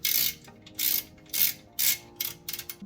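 A ratchet bolts a washing machine's panel back down during a spin-fault repair, with five or six quick bursts of close, crisp clicking separated by short pauses, the last ones choppier.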